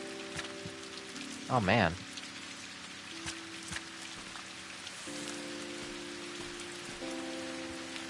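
Steady rain patters across a surface in the video game Viewfinder, a soft continuous hiss with low musical tones underneath and a brief spoken exclamation.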